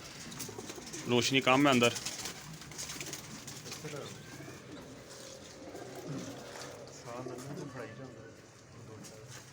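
Pigeons in a loft give soft, throaty coos in several repeated bursts, one loud and close near the start and fainter ones after, while someone talks in Hindi-Urdu alongside.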